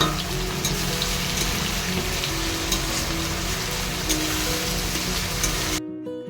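Spices of tomato, ginger, garlic, cumin and chilli sizzle and fry steadily in a pan with fish cooking, a continuous close crackling hiss with small pops, stopping abruptly at the end.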